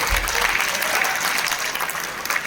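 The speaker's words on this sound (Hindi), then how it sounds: "आपकी तालियां आती रहेंगी तो मैं पढ़ता रहूंगा" Dense, continuous applause from a large audience at a Hindi poetry recital, loud and even throughout with no pauses.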